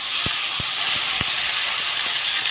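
Tomato, sweet pumpkin and green chilli fry in a pan for a mixed vegetable dish, a constant close hiss of sizzling with a few soft knocks of stirring.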